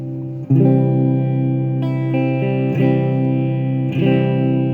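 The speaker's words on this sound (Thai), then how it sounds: "นี่เสียงจาก ตู้ แอมฮะ" Electric guitar chords strummed four times straight from the amp cabinet with all processing bypassed, dry and clean with no effects, each chord ringing out fully before the next.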